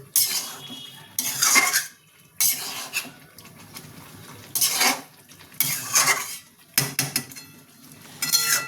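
Mutton bhuna with green chilli is stirred and scraped in a pan, giving repeated bursts of metallic utensil scraping and clanking separated by short quieter pauses, close and loud, no voices.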